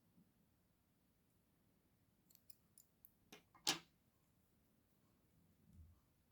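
A single quick snip of scissors cutting needle-lace thread, close and crisp, preceded by a few faint light taps and handling clicks in an otherwise quiet room.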